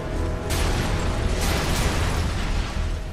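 Heavy explosions rumble through a scene in the superhero video game inFAMOUS, a loud continuous roar with several sharper bursts layered over it.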